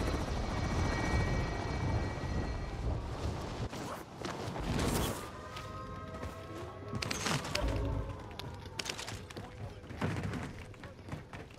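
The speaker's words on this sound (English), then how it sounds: "I got the chopper." A helicopter in the video game Call of Duty: Modern Warfare, its rotor thumping steadily at close range, punctuated by sharp bursts and impacts, with a player's voice occasionally over it.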